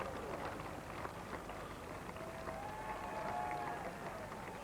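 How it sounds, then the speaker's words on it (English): Distant spectators applaud steadily at the 1990 World Equestrian Games driving championship, a soft, continuous wash of clapping heard faintly through open-air ambience. "great applause and a tremendous crowd fan participation here at these World Championships"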